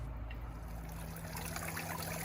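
Water trickles steadily in a restored outdoor fountain, a continuous soft splashing and dribbling at close range with no other sounds.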